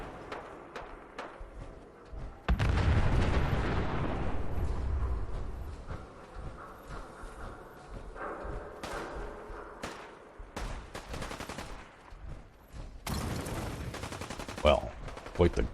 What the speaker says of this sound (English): quite the gun battle going on up there. Super mutants and raiders.